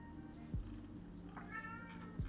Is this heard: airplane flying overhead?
no